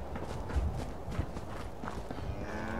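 A cow in the video game Fallout 4 gives a low moo amid steady footstep-like thumps and background noise.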